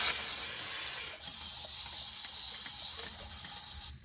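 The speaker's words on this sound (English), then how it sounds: "But nothing a little brake cleaner can't take care of." Brake cleaner sprayed from an aerosol can onto a removed front shock from a 2002 Ford Ranger, a steady close hiss that swells louder partway through and runs almost continuously before cutting off.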